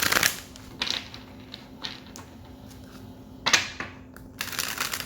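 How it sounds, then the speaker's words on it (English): Tarot cards riffle and slap in quick bursts, a soft papery shuffling repeated several times at close range with brief pauses between. "let me get a good shuffle"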